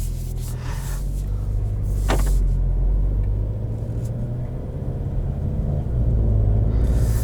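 A 2020 Volkswagen Golf GTI S with a DSG gearbox driving, heard from inside as a steady low engine and road rumble with occasional light rattles and rubbing noises, no talking.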